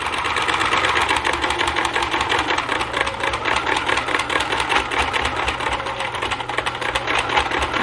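A sewing machine stitches the handle of a fabric bag made for a wheelchair or walker. The rapid, even needle clatter runs loud and close, without a break, for about eight seconds.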